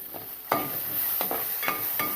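Urad dal roasting in a pan for chammanthi podi, a dry, soft sizzle with several sharp scraping stirs of a spoon spaced through the short stretch, fairly close and without talk.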